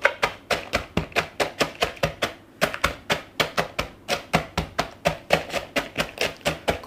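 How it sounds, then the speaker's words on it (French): Dessert base being crushed into crumbs with a rolling pin, heard as a steady run of sharp, evenly spaced cracking knocks, close and fairly loud, with a brief pause partway through. "à le broyer avec un rouleau à pâtisserie pour en faire... vraiment des miettes"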